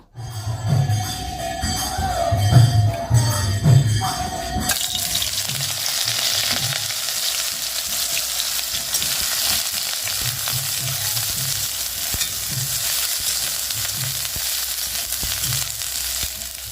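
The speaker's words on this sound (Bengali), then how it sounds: "সবার প্রথমে একটু সামান্য একটু লবণ আর হলুদ দিয়ে সোয়াবিনটা ভেজে নেব" Soybean chunks fry in a pan with salt and turmeric. A few seconds of stirring clatter open the clip, then a steady, close sizzle continues to the end with no speech.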